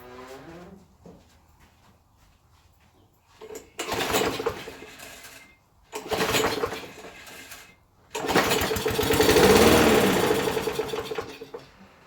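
Huskee XT650 small engine firing on ether after being left abandoned, in three short bursts: two brief sputtering runs that cut out, then a longer, louder rough run of about four seconds before dying.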